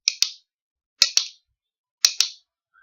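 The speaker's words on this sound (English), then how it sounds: "You know how to play a backward couplet, which sounds like this." Rhythm bones play a backward couplet: three evenly spaced pairs of crisp clicks, the first of each pair accented and the second slightly softer, played close and alone.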